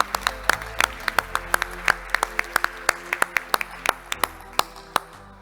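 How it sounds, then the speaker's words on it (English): A small audience at a panel discussion on Baltic state-owned companies welcomes a panelist with applause: fairly sparse, distinct individual claps ringing out in an uneven rhythm, close and clear, with no talking over them. "with a round of applause"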